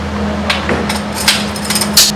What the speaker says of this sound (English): I'm going to clamp it down on all four corners and weld it